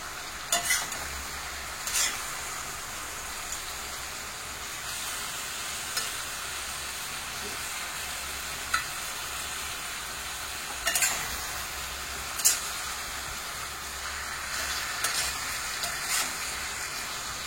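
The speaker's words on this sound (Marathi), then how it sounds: "चांगला असं गुळामध्ये परतून घ्यायचं चांगलं व्यवस्थित।" Sweet potato slices cook in jaggery in a pan, giving a soft continuous sizzle broken by occasional scraping stirs and light clinks of the utensil, close and fairly quiet.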